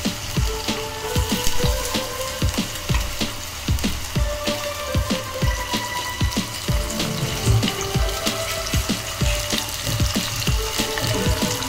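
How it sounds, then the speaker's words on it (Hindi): Potato pieces frying in hot oil in a pan while cooking sabudana khichdi, a steady dense crackle and sizzle with a few clinks, close and continuous throughout. "ऑयल हमारा जो है वो गर्म हो चुका है, हमें इस ऑयल में उसे हल्का ब्राउन फ्राई करना है"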